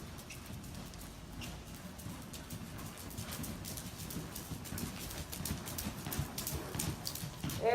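Horses' hooves clip-clop steadily on an arena's dirt footing during a riding lesson, a continuous muffled patter of many soft hoofbeats, close and moderately loud, with no talking.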